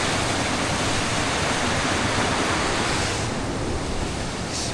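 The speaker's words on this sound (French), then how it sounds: "on commence à s'approcher fortement de la cascade, je pense." Continuous roar of rushing water at Minoh Falls in Japan, a dense, loud, unbroken broadband rush heard close by without speech.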